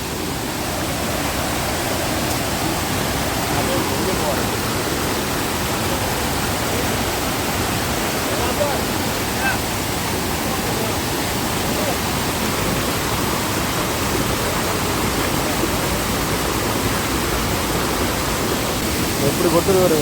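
Water crashes down a waterfall in a constant, dense roaring rush that stays even and loud throughout, with no clear voices standing out over it.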